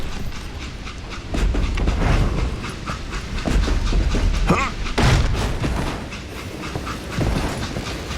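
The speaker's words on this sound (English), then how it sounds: "Jesse detached the express car from the rest of the damn train" A train rolls on rails in the Western video game Call of Juarez: Gunslinger, a loud steady rumble with rhythmic clickety-clack and metallic clanks, a narrator's voice faint or absent over it.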